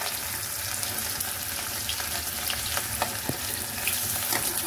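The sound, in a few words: onion and garlic frying in a pan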